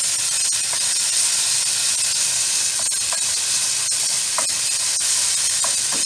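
Ginger and garlic fry in a teaspoon of hot oil in a home kitchen, giving a constant bright sizzle with faint pops and spatters, close and steady throughout, with no talking.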